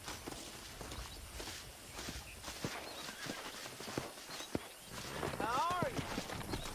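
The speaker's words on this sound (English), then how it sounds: "Let's see if we can't wrangle some horses." Horses in the Red Dead Redemption video game clip-clop at a walk across dirt, then one gives a rising, wavering neigh near the end, with a voice briefly under the hoofbeats.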